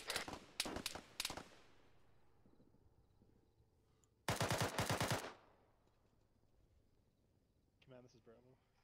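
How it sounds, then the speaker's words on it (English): Machine gun fire in the Arma 3 video game: two loud clusters of rapid automatic bursts, one at the start and another midway, each trailing off into a long echoing decay, with radio-style voice chatter faint underneath. "We're taking pop shots from the southeast."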